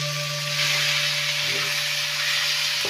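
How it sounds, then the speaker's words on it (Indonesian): Spice paste for eel pepes sizzles in a pan with a steady, close hiss over a faint constant hum, with no talk. "Langkah selanjutnya adalah menggongso bumbu agar bumbu-bumbu tersebut matang, harum, dan meresap lebih sempurna ke dalam daging sidat nantinya."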